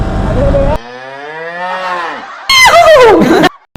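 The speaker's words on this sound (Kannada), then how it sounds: "ಇಲ್ಲಿ ನೋಡಿ ಎಮ್ಮೆ" A buffalo moos loudly and close up beside a road, a long drawn-out low call followed by another harsher bellow.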